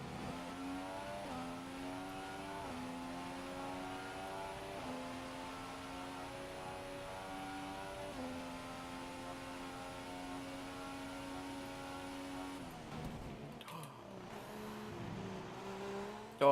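An F1 race car engine in the F1 2016 video game at the Russia circuit: a high, revving engine whine climbing through repeated upshifts in a steady rhythm, then cutting abruptly to a brief rough burst near the end.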